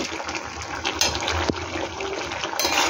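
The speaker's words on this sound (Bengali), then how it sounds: "গ্যাসটাকে হাই ফ্লেমে দিয়ে জলটা এবার শুকনো করবো বন্ধুরা।" Water boiling off in a pan over a high gas flame while cooking mustard-poppy seed fish curry with prawns, a steady close hiss and bubbling sizzle with a few sharp pops, continuous and loud, no talking.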